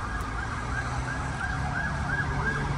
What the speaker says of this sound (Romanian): Uite, poliție și pompieri și pe stânga aici.